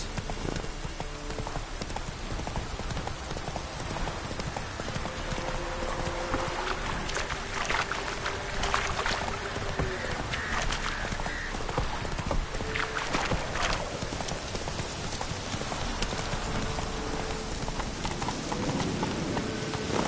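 Hooves of Roach, Geralt's horse in The Witcher 3, clop steadily over a dense game soundscape of water or rain-like noise, with faint background tones and no speech.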